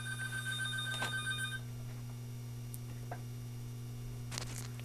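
A telephone bell rings once with a bright trilling tone over a steady electrical hum, then stops, leaving faint clicks and ticks in a quiet room.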